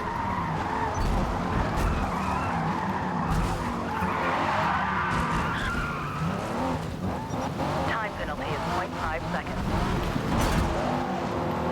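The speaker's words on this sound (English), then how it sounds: "rip the handbrake before the turn as well" In Forza Motorsport, a race car skids after the handbrake is pulled. Its tires squeal and scrub over a continuous engine roar, with rising squeal bursts near the end.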